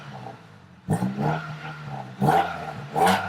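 A Honda Accord with a loud aftermarket exhaust, not yet fully warm, gives three short revs, each a sharp rise and fall in the exhaust note over a quieter idle.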